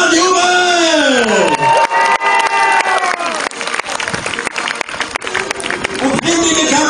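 A crowd cheers and claps at a medieval festival tournament, with whoops and shouts rising over continuous applause while an announcer's voice rings out at the start.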